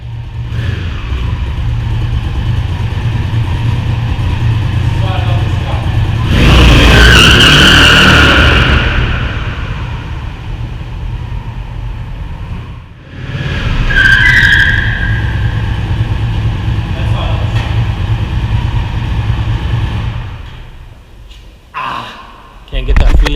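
A 1000cc Indian Scout motorcycle being ridden, its engine droning steadily with two loud rising surges of acceleration and a wind-swept roar, ending in brief sharp bursts; no talk over it.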